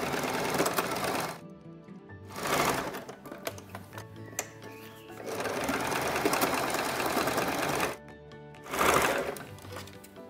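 A sewing machine stitches seams on a fabric face mask, running in several steady bursts of rapid mechanical clatter separated by brief pauses, close and clear with no talking.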